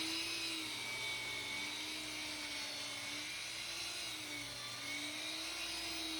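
A power saw cuts wood pieces for a tapered planter, making a steady mechanical whine with a droning hum that wavers slightly as the blade works through the wood.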